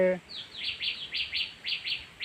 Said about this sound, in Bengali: এখানে পাখিগুলো খুব মানে টুনটুনি পাখিগুলো খুব শব্দ করতেছে